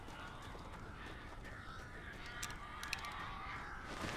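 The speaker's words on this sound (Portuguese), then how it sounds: "Aqui sim parece pássaros, né?" Crows caw faintly several times in the Alan Wake Remastered game, scattered calls set against a steady low ambient rumble.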